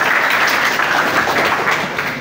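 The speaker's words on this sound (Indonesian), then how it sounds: "Tepuk tangan buat Kang Mas Suyatno yang sudah hadir bersama." An audience applauds at a formal event honoring Kang Mas Suyatno, producing dense, steady clapping that is loud and continuous throughout, with no pauses and no speech.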